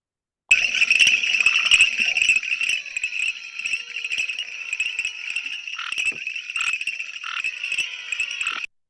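A nocturnal soundscape of crickets and frogs: dense, continuous insect chirring with rattling frog calls, steady and fairly loud, starting abruptly and running throughout without voices.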